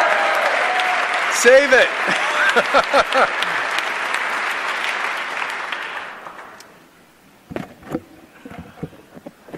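An audience applauds at the second inauguration of a governor, a dense, steady clapping crowd that fades out after about six seconds, with scattered voices and talk following.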